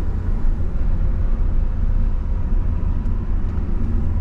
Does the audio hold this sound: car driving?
yes